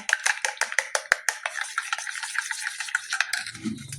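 A spoon stirs sugar into milk for egg pudding, clinking in quick, regular scrapes and taps against the bowl, close and crisp, slowing toward the end with a faint low thump; no one speaks.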